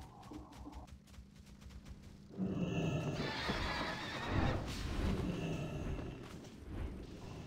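A horse neighs in a video game, a loud whinny breaking in after a quieter stretch, followed by sustained noisy rumble and movement sounds with no talking.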